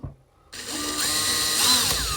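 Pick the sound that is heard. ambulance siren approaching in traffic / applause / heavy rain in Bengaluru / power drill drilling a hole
power drill drilling a hole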